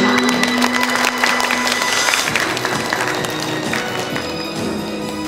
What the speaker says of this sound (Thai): ขอเสียงปรบมือต้อนรับอาจารย์ณัฐประคันกล้าหาญค่ะ